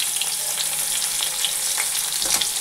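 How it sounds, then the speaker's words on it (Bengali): Round slices of bitter gourd fry in hot oil with a steady, bright crackling sizzle and light stirring, close and continuous with no voices. "এই যে একটা করলা ছিল, গোল গোল করে কেটে ভাজা করছি"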